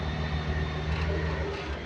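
The engine of a CAT 580 telehandler with a low-power fault runs at high, steady revs, a loud, continuous droning roar close by, with no speech.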